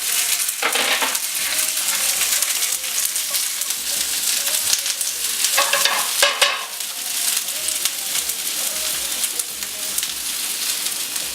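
Onion and red pepper sizzle steadily in a hot pan, a loud continuous frying hiss with occasional bursts of scraping as the vegetables are stirred; no voices.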